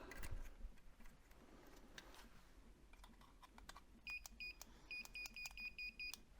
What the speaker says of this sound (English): The beeping is the auto test probe